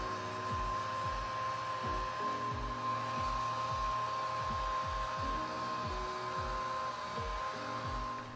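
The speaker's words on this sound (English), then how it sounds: "heating up the glue and using cotton balls and acetone to lift up that old factory glue" A heat gun blows steadily while old factory glue is softened on Jordan 4 sneaker outsoles, with a continuous fan hum and a repeating mechanical rattle beneath it, fairly faint and with no talking.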